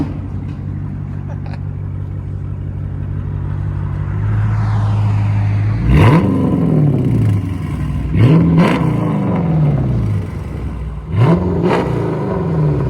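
A 2015 Dodge Charger R/T with a 5.7L HEMI V8 and a muffler-delete Dynomax race bullets dual exhaust idles with a deep burble, then revs sharply three times, each rise and fall loud and close.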